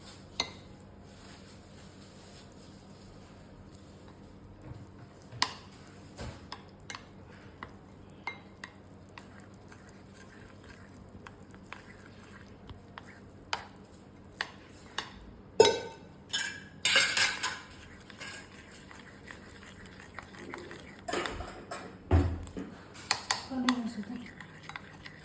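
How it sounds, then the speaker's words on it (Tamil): A spoon stirs cooked rice in a bowl, giving soft intermittent scrapes and clinks against the dish, with a quieter stretch before a busier burst of knocks and stirring toward the end. "ரைஸ் அதுக்கப்புறம் நல்லா மிக்ஸ் பண்ணிக்கோங்க."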